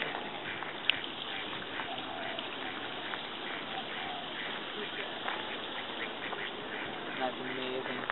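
Ducks at the pond of Byodo-in Temple, a Japanese-style temple: faint, scattered quacks at a distance over a constant wash of water and outdoor ambience, with soft voices nearby.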